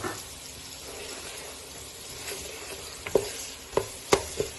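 Biryani spice mix sautéing in a pan for egg fried biryani: a constant soft sizzle, with a few distinct spoon scrapes and taps near the end, no talking.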